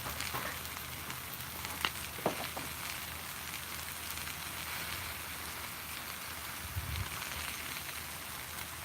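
Herbed pork chops sizzle on a Blackstone flat top griddle in a faint, even hiss, like light rain, broken by a couple of soft pops.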